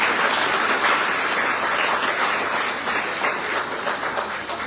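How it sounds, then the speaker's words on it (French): Dense, loud applause from a crowd at the Tour de Guadeloupe cycling team presentation, a continuous wash of clapping that holds steady and then tapers slightly at the close. "On les applaudit très très fort,"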